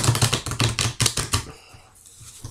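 Oracle cards are shuffled for a card reading, giving a close, loud run of crisp riffling slaps in quick rhythmic bursts that stop abruptly halfway, leaving faint soft handling noises.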